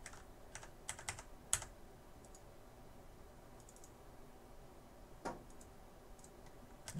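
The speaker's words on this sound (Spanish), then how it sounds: "esto se sube con las flechas del teclado" Computer keyboard arrow keys pressed in a few quick taps, some in pairs, with sparse clicks spread over a quiet room background and no talking.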